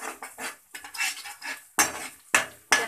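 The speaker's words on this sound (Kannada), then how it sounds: "ಹಾಕಿ ಚೆನ್ನಾಗಿ ಮಿಕ್ಸ್ ಮಾಡ್ಕೊಳ್ಳಿ" A spoon stirs egg fried rice seasoned with pepper powder, salt and garam masala in a pan, making a run of clattering scrapes and clinks with several sharper strokes near the end; no one speaks.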